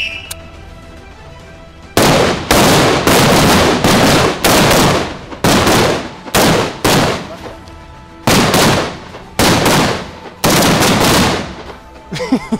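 Gunfire at military shooting practice: a rapid series of sharp, very loud shots in bursts and single cracks, each with a short echoing tail, after a quiet start.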